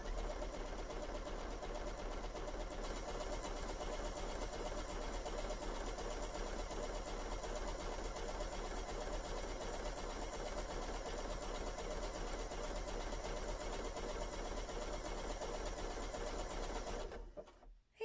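A BERNINA sewing machine runs a decorative feather stitch on knit fabric, a continuous, even mechanical whir heard close up for the whole stretch before it abruptly stops.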